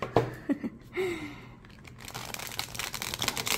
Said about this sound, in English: let's see how this deck shuffles